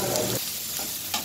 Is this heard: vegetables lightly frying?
yes